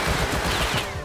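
Rapid burst of Tommy gun fire in the survival game Rust, a dense continuous rattle of close, loud shots lasting about a second with no talk over it.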